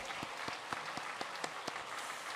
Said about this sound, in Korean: 모든 우리 자녀들 박수로 환영합니다